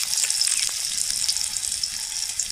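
Spoonfuls of taro fritter batter frying in hot mustard oil in a karahi, a continuous bright hissing sizzle with crackly pops, close and fairly loud, no voices.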